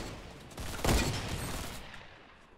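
Gunfire in Fortnite Battle Royale, a brief burst of shots peaking near the start and trailing into a softer rumble, moderately loud and close.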